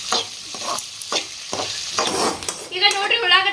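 Onion and capsicum fry in a pan while being stirred, bursts of scraping and stirring strokes over sizzling oil that grows louder and more crackly toward the end.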